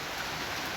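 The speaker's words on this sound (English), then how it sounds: "Going through some rain here." Steady rain pours down around someone travelling through it, a continuous wash of dense, even hiss with no distinct drops and no voices.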